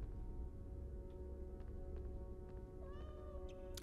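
A faint cat meow from Harry Potter and the Philosopher's Stone on PlayStation rises near the end, over a steady low hum and quiet background noise, with no talking.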